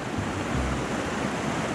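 Steady, loud roar of falling water at a waterfall in Biliran, a dense continuous rush filling the whole clip with no voices.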